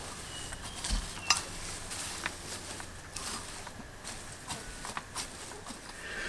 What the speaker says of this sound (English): give it a rake in.